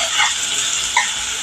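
Chopped onion with a couple of crushed curry leaves frying in a pan for a tempering, giving a short, continuous soft sizzle with a couple of faint stirring scrapes.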